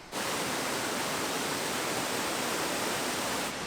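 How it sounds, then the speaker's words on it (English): A waterfall at Fall Creek Falls State Park, Tennessee, gives a steady rushing roar of falling water, even and unbroken, moderately loud throughout. "I hear a waterfall over there."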